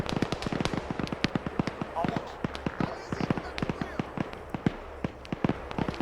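Rapid gunfire in a video game military rescue mission crackles in dense, irregular bursts of sharp shots, some near and some distant, with a voice talking over it.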